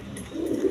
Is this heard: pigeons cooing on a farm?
yes